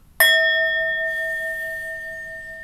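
A high-pitched meditation bell is struck once, giving a bright sustained tone that rings alone and fades slowly.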